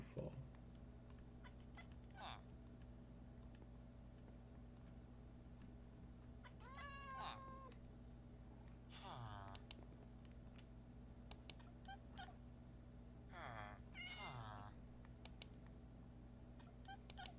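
A cat meows in the video game Minecraft, a few short, faint mews spread over a steady low background hum, with a person talking quietly in between.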